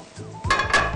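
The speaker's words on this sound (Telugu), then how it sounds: "స్టవ్ వెలిగించి బాండి పెట్టుకుని ఆయిల్ వేసుకుందాం." Metal kadai being set onto a stove burner, a short scrape followed by two clanging metallic knocks, close and moderately loud with no talking.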